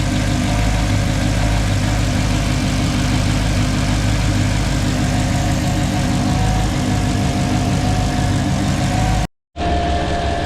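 A Mercedes C55 AMG with a manual swap, intake manifold spacers and 550cc injectors idles steadily up close, a loud, even rumble that cuts out briefly near the end and then resumes.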